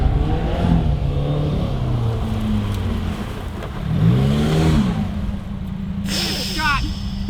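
A car engine revs and shifts while being driven in a rally-style run, the rising and falling engine note loud and close, with people talking inside over it.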